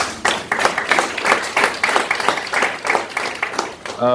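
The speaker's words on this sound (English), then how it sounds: "Please, one more round of applause." A gala audience claps in rhythmic bursts, a close, lively round of applause that fills the room for several seconds before a voice begins speaking at the very end.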